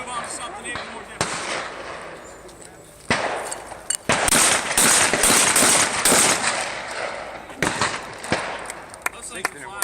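Shotgun blasts at flying clay targets crack out as single loud reports, several spaced across the stretch, with someone talking between and around them outdoors.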